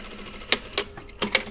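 A sewing machine stitches the collar point of a blouse, giving a few short, sharp bursts of needle clatter separated by brief pauses, close and fairly quiet.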